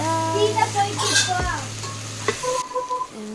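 Food fries and sizzles in a pan for mushroom and potato pulao, with steady stirring scrapes and a brief louder hiss; background hum and faint clatter, close and moderately loud.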